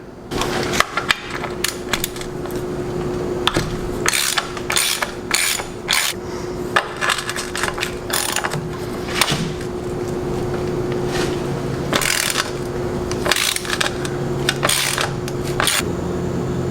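A hand ratchet works on transmission crossmember bolts under an Edsel left abandoned for 56 years, clicking in repeated bursts of rapid pawl strokes with brief pauses and scraping metal between them, close and clear.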